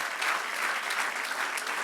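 Brief burst of dense applause from a church congregation praising the Lord during a sermon, a continuous wash of many hands clapping at once, steady and moderately loud.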